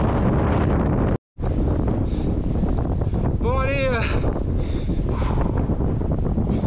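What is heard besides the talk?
strong wind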